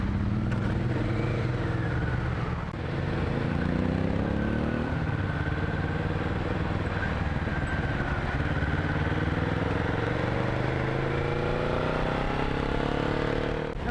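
A motorcycle rides through Bangkok streets with a steady, loud engine drone that rises and falls in pitch as it accelerates and shifts, joined by traffic noise and occasional clatter.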